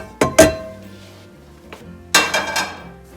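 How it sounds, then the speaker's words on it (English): A frying pan is pulled out in a home kitchen and set down with two sharp metallic clanks close together, a pause, then another knock and a cluster of clattering bumps as cookware is handled. "So let's go ahead and get out our pan."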